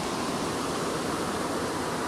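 Ocean waves surge onto a California shore on a morning, a loud, continuous, broadband wash of surf filling the whole stretch with no pauses.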